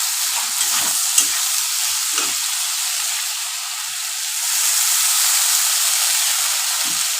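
Ginger fries in a pan with green tomato, giving a bright, steady close sizzle with a few faint stirring knocks.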